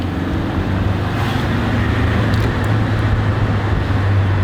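A 1990 Nissan D21 pickup's engine, freshly fitted with a new fuel pump, runs and takes a light blip of throttle, a steady low rumble heard close and loud throughout.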